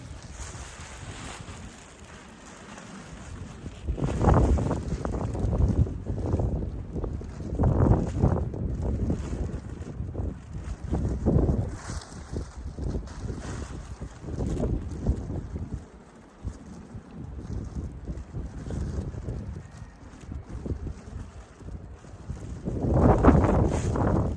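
Wind gusting outdoors around a fruit-tree yard, a steady rushing roar buffeting the microphone and swelling in louder surges, close and continuous with no talk.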